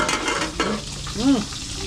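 A pot of tilapia paksiw bubbles and sizzles steadily up close, with a soft stirring scrape and a brief squeak.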